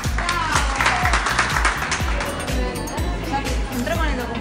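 A crowd cheerfully applauds first-time voters at an Argentine primary election, dense continuous clapping with some chatter and voices mixed through it.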